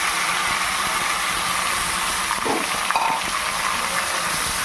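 Chopped onions fry in a pan while mutton is being cooked, giving a steady, even sizzle with a few faint stirring scrapes near the middle.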